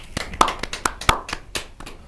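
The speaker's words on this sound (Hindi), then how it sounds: "मैं स्वागत करती हूँ जोरदार तालियों के साथ महेंद्र भट्ट जी।" Scattered audience hands clap a welcome for a poet at a Hindi kavi sammelan, a dozen or so sharp, uneven claps spread across the moment, close and fairly loud, with no talk over them.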